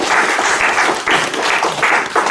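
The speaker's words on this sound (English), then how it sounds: "So a big applause also for Peter." Strong applause from the audience at an SNV Vietnam award ceremony, a close, loud burst of many hands clapping that swells and pulses slightly while continuing throughout.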